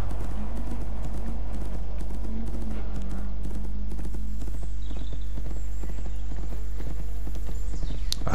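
Horse hooves clip-clopping in a riding video game, a steady rapid rhythmic galloping beat with a low constant hum and game tones underneath, loud and continuous.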